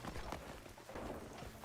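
Horse hooves clip-clop in the video game Crimson Desert, a steady run of close, moderately loud hoofbeats over a busy in-game background, with no talk.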